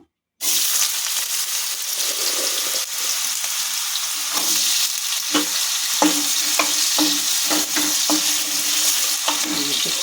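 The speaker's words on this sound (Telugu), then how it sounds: "ఇప్పుడు నూనె కాగిందండి. కొంచెం ముక్కలు వేపుకుందాము." Potato pieces sizzle steadily in hot oil, with occasional clinks and scrapes of a utensil stirring in the pan; no voices.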